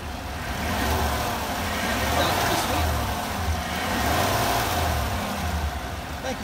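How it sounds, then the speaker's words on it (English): A 2015 Cadillac Escalade ESV engine at a salvage auction yard runs steadily and rises in a couple of gentle revs, a rumbling motor heard close up with outdoor background noise. "Zach, can you rev this one for me, bud"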